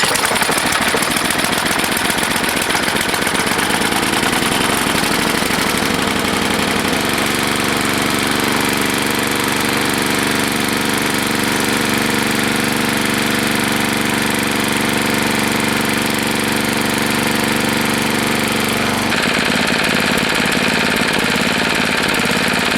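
A Tecumseh HSSK50 small engine runs at throttle, a loud, close, continuous rough drone with a slight shift in pitch partway through and no talking.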